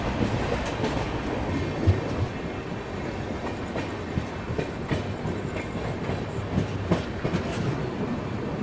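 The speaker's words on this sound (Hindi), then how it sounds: "ट्रेन सीधा आसनसोल जंक्शन जाके रुकेगी" Howrah Rajdhani Express rolling along the rails, heard from inside as a steady rumbling drone with rhythmic clickety-clack wheel beats and faint squeals, continuous and fairly loud.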